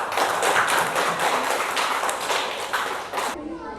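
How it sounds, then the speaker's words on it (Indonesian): Children in a classroom clap together in a brisk, close patter of overlapping hand claps that continues for about three seconds and then stops abruptly. "Tepuk tangan semuanya anak-anak"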